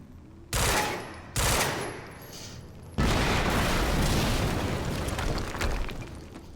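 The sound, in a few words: explosion and gunfire in video game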